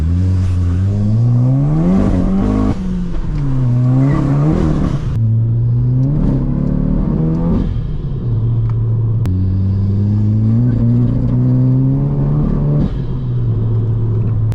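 Loud, close revving from a Volkswagen Polo GTI running an opened-up exhaust: a rumbling idle broken by repeated throttle blips that rise and drop back, with sharp crackles between pulls and no talking.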